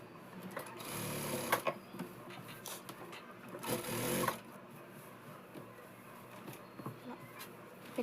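A sewing machine stitches the lining of a Punjabi dress in short close bursts of rapid whirring, separated by brief pauses and handling scrapes.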